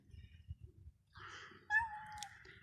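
Cats, a mother and her kittens, meow near a Yozgat-style arabaşı meal, with a few short tonal cries over low background rumble and clatter.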